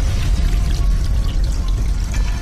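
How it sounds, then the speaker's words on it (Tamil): Water pours and overflows from a bathroom sink in a horror film, a steady, loud splashing rush that continues without pause throughout. "பாத்ரூம் குள்ள இருந்து தண்ணி வரக்கூடிய சவுண்ட் கேக்குது"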